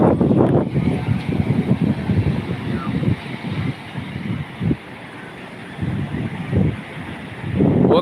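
Waves and wind on a beach make a loud, uneven wash of surf and gusts buffeting the microphone, swelling and easing throughout.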